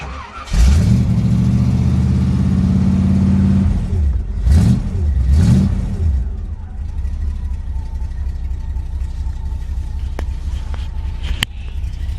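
A Cobra DAX Tojeiro De Dion with a 5.7 engine starts from cold and revs a few times, then settles into a steady, even idle recorded close up.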